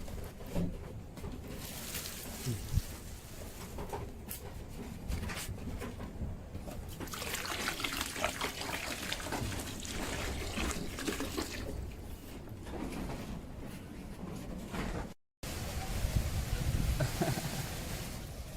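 Water trickles and runs steadily from a tap in a shed, a soft continuous flow at moderate distance, with brief splashes along the way and a momentary cutout near the end.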